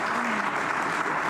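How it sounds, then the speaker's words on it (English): Steady applause from an audience at a presentation ceremony, a short unbroken stretch of dense clapping at constant loudness. "I think we can do a little better than that with the clapping"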